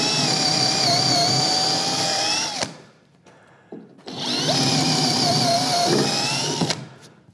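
A drill bores bolt holes into a wooden workbench in two long, loud bursts of steady whine, separated by a brief pause of quieter handling noise.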